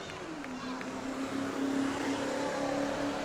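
A spectator race car accelerates on the track during a racing event at New Smyrna, a continuous engine drone heard from a distance with its pitch rising slightly and holding steady.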